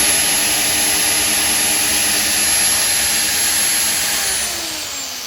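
An electric car polishing machine runs at high speed, around three thousand rpm, giving a loud steady whine with a high tonal hum that holds, then winds down and drops in level at the end.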